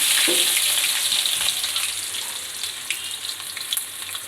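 Onion frying in mustard oil gives a bright, steady sizzle that starts loud and eases slightly, with small spattering pops throughout.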